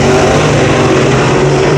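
A race car, the number 24 of Jared Bailey, roars past at close range on a Brownstown Speedway oval, a loud sustained engine howl filling the whole burst.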